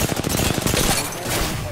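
Rapid bursts of automatic gunfire from a shooter video game rattle close and loud, a fast repeating volley of shots with no talking over it.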